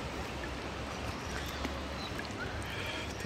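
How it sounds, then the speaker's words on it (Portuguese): Small stream of waterfall water flowing near Praia do Sono beach in Paraty, Brazil, a steady broadband rush and gurgle close by, continuous and even with no talking. "Tem um riozinho aqui, ó, com a água da cachoeira."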